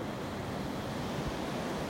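Ocean waves wash steadily onto an eroded beach in North Naples, Florida, a continuous broadband surf roar that stays loud and unbroken, mixed with some wind, with no voices.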